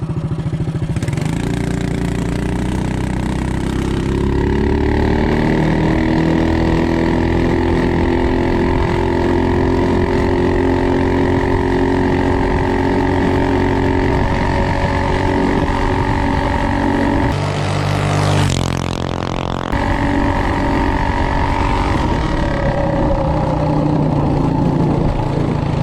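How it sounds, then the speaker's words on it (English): A Coleman CT200U-EX minibike with a VM22 carburetor runs flat out at top speed, its engine a loud, steady drone held for the whole stretch, briefly rising and shifting pitch near the end with no talking. "Okay, top speed, VM22 carb,"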